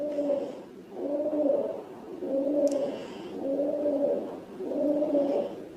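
Pigeons being fed coo in a steady series of five soft, throaty phrases with short pauses between them, close and clear over a quiet background.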